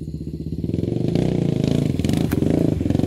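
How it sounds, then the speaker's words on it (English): A Honda 400ex quad's single-cylinder engine revs during a ride, a close, loud, rapid pulsing putter that climbs in pitch as the throttle opens, with no talk. "taking a little rip on the quad here"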